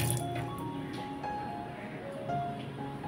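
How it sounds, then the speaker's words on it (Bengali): Water splashes and drips steadily as hands are rinsed, with liquid sounds running through the whole short stretch at moderate, close level. "একটু হাতটা ধুয়ে নিতে দাও।"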